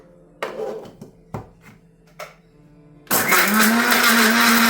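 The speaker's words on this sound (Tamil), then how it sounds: "தக்காளி நான் ரெண்டு தக்காளி போட்டு இதுக்குள்ளே போட்டு நான் அரைச்சிக்க போகிறேன்" Mixer grinder blending tomatoes and soaked tamarind for rasam in a home kitchen, a few clunks of the jar being set down, then the motor roaring up loud and steady.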